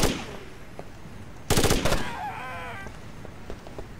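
Rainbow Six Lockdown gunfire on a docks map: a sudden loud burst of rapid shots cracking close by, followed by a trailing ring and a few faint pops against quiet game ambience.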